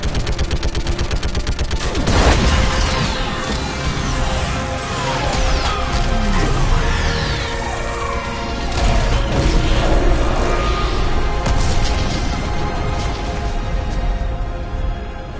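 Dense gunfire and heavy explosions from an orbital strike in Mass Effect 3 fill a continuous loud battle din, with rapid shots, booming impacts and crashing debris throughout.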